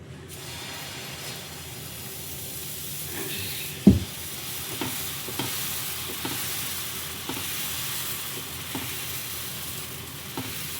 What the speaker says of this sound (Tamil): இங்கே வந்து தோசை வாக்குறேன் என் பையனுக்கு